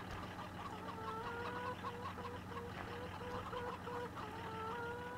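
Hens cluck steadily in the hen houses of a Farming Simulator 15 farm, a busy, continuous chorus of overlapping clucks close by that runs the whole stretch with no talking.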